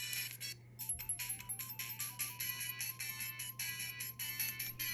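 Video game music and chiming effects from the single built-in speaker of a FunKey S handheld at full volume, a thin, tinny, bright looping tune with steady pulsing notes over a low hum.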